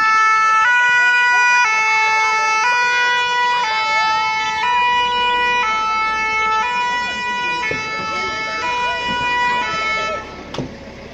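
An ambulance siren wails nearby in a loud two-tone alternating pattern, repeating steadily, with a brief horn blast near the end, at a fire station open day in Marnaz-Scionzier, France.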